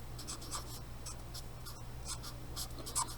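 Quiet scratching of a pen or pencil writing out a fraction math problem, with short irregular strokes over a faint steady background hum and no speech.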